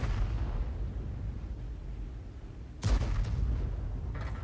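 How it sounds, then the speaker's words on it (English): A T92 HMC self-propelled artillery piece fires HE rounds in World of Tanks: a low rumbling battle bed, then a sudden loud boom and crack partway through, trailing into a heavy, sustained roar. "Now, he's firing the non-stun HE at the moment, but the Death Star is now taking fire."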